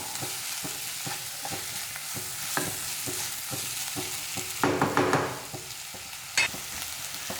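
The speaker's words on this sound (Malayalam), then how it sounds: "ഇനി നമുക്കിതിലേക്ക് 2 മീഡിയം സൈസിലുള്ള നല്ല പഴുത്ത തക്കാളി മുറിച്ചത് ചേർത്ത് കൊടുക്കാം. നന്നായിട്ടൊന്ന് ഇളക്കി കൊടുക്കാം കേട്ടോ." Chopped ripe tomatoes being stirred into a simmering Kerala chicken curry, giving a close, continuous sizzle with repeated ladle scrapes and a louder burst of stirring and clatter partway through; no one speaks.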